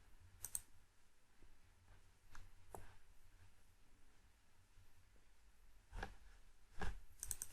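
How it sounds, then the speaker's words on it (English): Quiet, sparse clicks of typing on a computer keyboard, a few isolated keystrokes with short bursts near the start and end over a low background hum. "I'm gonna type this."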